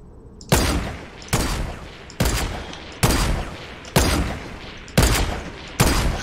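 Rapid bursts of gunfire in the video game Fortnite, seven sharp loud shots evenly spaced about a second apart, each with a short decaying tail, no talking over them.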